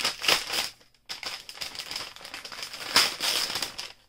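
Wrapping paper is crumpled and crinkled while a surprise package is unboxed. The crackling comes up close in repeated bursts, with a brief near-silent gap about a second in and no talking.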